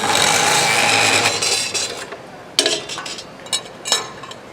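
A saw cutting material on a TigerStop automated stop system, with a loud sustained cut that winds down, followed by a few sharp clanks and knocks of handled stock.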